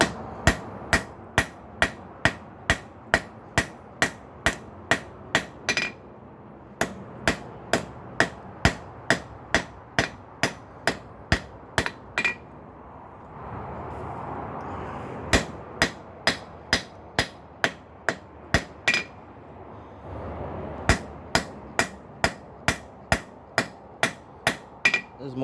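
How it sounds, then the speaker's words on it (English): A hammer planishes glowing steel below full forging heat while shaping a horizontal hot cut tool made from a ball pein hammer. Sharp, ringing blows fall in steady fast runs, broken by short pauses, loud and close. "This is more planishing now than anything."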